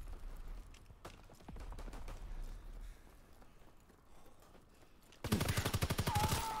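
Bursts of automatic gunfire from Call of Duty WW2 online multiplayer, a loud rapid stream of shots near the end after quieter scattered battle noise, with no talking.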